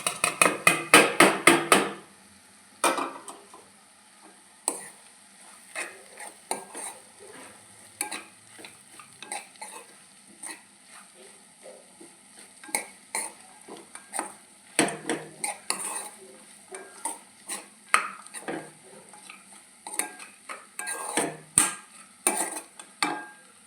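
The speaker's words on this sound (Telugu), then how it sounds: "ఈ బొరుగులు వేసాక ఈ మిశ్రమం మొత్తాన్ని బాగా కలబెట్టుకోవాలండి." Puffed rice snack mixture is stirred in a bowl, with loud rapid scraping and clinking of a spoon at first, then intermittent rustling, clattering strokes, close up with no talk.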